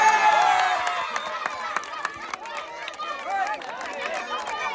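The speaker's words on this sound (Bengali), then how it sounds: "সবাই একটা জোরে তালি" Villagers at an outdoor prize-giving game clap together in a lively burst of applause that fades gradually, with a voice speaking over it.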